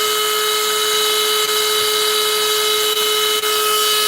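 A small rotary drill bores holes in crinoid fossils, a steady, loud high-pitched motor whine holding an even tone without pause, with a few faint clicks.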